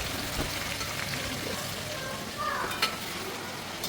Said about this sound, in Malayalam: ചിക്കൻ ഫ്രൈ ചെയ്തുകൊണ്ടിരിക്കുന്നു